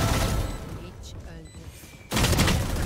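Gunfire in the tactical shooter Valorant: a loud burst of shots opens, fades into quieter scattered game sounds, then a sudden heavy volley erupts near the end, with someone speaking over parts of it.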